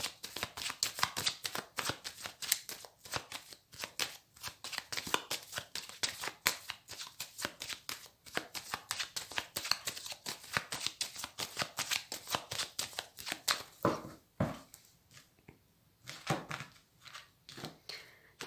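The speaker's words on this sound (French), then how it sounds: "Alors, je vais faire une coupe avec le tarot." Tarot cards being shuffled and cut by hand in a reading, a dense run of crisp papery riffles and slaps close by, continuing steadily with a few brief pauses near the end.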